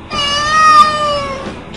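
A cartoon cat meows once from a Lenovo Phab 2 (2018) phone's AR mode animation, a clear, fairly loud drawn-out mewl lasting well over a second, heard on its own.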